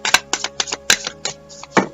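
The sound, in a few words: shuffling a deck of cards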